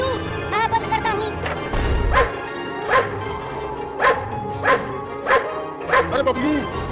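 Dogs barking in a cartoon-style scene, a series of short bark-like yelps repeating at fairly regular intervals, mid-distance, with voices and background noise running underneath.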